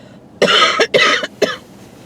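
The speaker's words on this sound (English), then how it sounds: "as he coughs, because he's losing his spit" Three harsh coughs in quick succession, close and loud, with short pauses between them.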